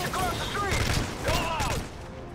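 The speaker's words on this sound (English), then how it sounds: "Man, I'm shooting" Rapid volleys of gunfire during a Call of Duty: Modern Warfare 3 campaign firefight, sustained and close, with whistling, swooping tones and voices mixed underneath.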